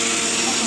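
A kitchen blender runs steadily at close range, a continuous loud motor whine with no pause through the short stretch.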